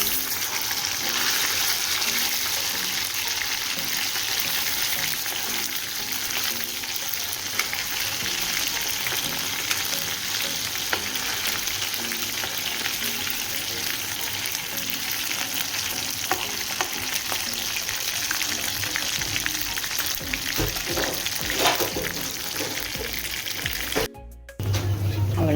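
Fish frying in hot oil in a pan, a loud, steady crackling sizzle that runs without a break, with a short scrape or clatter near the end.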